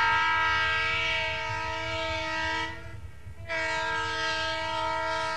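A streamlined train's horn blares with a loud, sustained chord over rumbling rail noise, breaks briefly, then sounds again.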